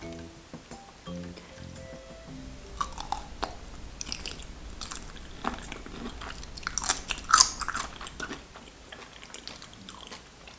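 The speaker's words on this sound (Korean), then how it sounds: "새우를 노른자에 찍어 먹어볼까요?" Soy-marinated shrimp dipped in egg yolk being eaten up close, soft wet chewing and slurpy bites with a few sharper crunchy clicks, preceded by brief clatter of utensils, no speech.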